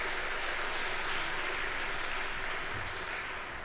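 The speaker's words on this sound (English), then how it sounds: "I just wanted to give her a little round of applause" Steady wash of audience applause at an evening community songbook event, continuous and even, fading slightly toward the end with faint voices underneath.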